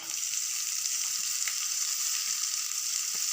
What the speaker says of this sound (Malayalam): ഇട്ടിട്ട് നമുക്കതിലേക്ക് സവാള ഇട്ട് കൊടുക്കാം.